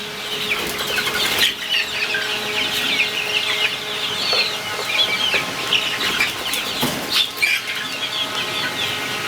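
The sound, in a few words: chickens clucking and flapping wings at a farm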